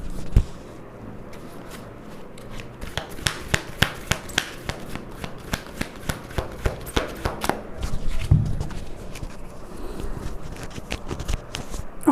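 Oracle cards shuffled and drawn during a tarot reading, a steady run of close, crisp flicks and riffles with soft rubbing between them and no talking.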